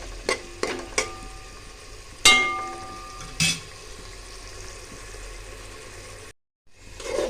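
Meat goes into spice paste cooking in a pan, bringing a few sharp clatters and a sudden rising sizzle, then steady frying and stirring noise close by, broken by a short silence near the end.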